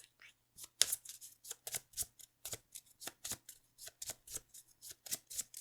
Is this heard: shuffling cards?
yes